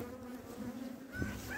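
Honeybees buzzing steadily around an open hive during an inspection, a dense continuous hum close to the microphone with no voices.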